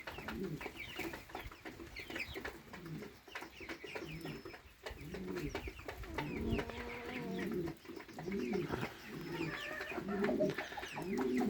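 Birds fill a pigeon loft where the first young pigeons have hatched, giving soft cooing and clucking calls over constant rustling and background bustle throughout, with no clear speech.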